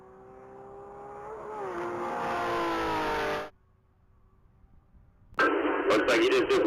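A 2013 Porsche 911 Carrera S launches on a standing-mile top-speed run. Its engine note climbs steadily and loudly for about three seconds, then cuts off abruptly. A brief quiet follows before a burst of bright, choppy noise.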